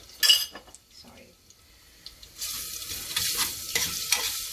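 Garlic frying in a pan for dhansak makes a broad, hissing sizzle that swells partway through and is broken by scraping stir strokes. Earlier there are a few clinks and quieter handling sounds.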